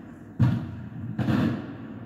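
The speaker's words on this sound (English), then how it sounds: "And there's fireworks" Fireworks go off outdoors in two separate dull booms about a second apart, each a low thud with a short rumbling tail, fairly loud against a quiet background.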